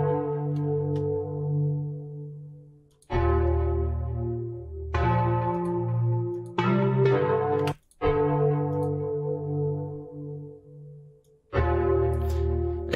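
A bright, brassy synthesizer melody from a melodic house track plays in long sustained phrases, loud and continuous with a few brief pauses between sections.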